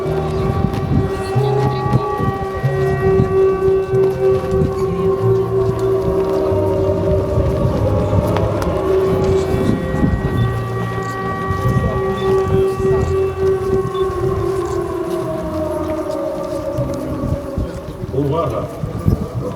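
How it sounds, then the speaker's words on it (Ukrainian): Air raid civil defense siren wailing steadily and loudly outdoors in Yuzhne, Odesa region, during a remembrance day event, with a voice making an announcement over it throughout. "Громадяни, повітряна тривога, відключіть світло"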